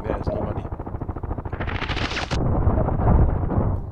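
Rapid gunfire in the Contract Wars online shooter, a steady run of fast shots with an RPK-type light machine gun in play, loud and continuous, shifting into a heavier rumbling blast near the end.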